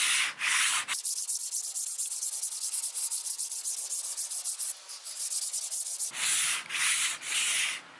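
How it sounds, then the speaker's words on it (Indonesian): Wood being sanded by hand with 400 grit sandpaper, a close, continuous rasping rub with rhythmic strokes, briefly pausing and then resuming with quicker back-and-forth passes. "Kita bisa menggunakan amplas manual atau menggunakan sanders."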